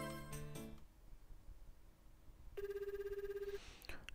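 A telephone in the dating sim Tokimeki Memorial Girl's Side 3 plays a short electronic ring: a chiming tone at the start, a pause, then a sustained beeping ring near the end, fairly quiet.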